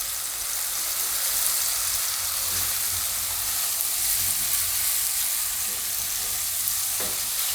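Garlic sizzling in hot oil while being stirred for a Chinese-style dish, a constant bright frying hiss close by with light scraping and stirring knocks throughout.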